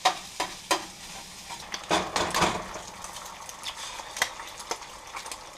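Homemade corned beef hash is stirred and shredded in a pan, with repeated scraping strokes and soft sizzling in irregular bursts, close but fairly quiet and without speech.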